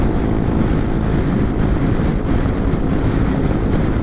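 A Honda Forza 300 scooter at top speed, around 86 to 87 mph near its 9,000 RPM redline, with a steady, loud roar of wind buffeting and engine noise that holds constant throughout.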